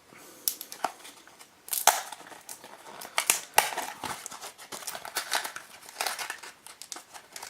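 Trading card booster packs from a special edition being torn open and handled up close: repeated crinkling and ripping of foil wrappers with sharp crackles, continuous over several seconds and no talking.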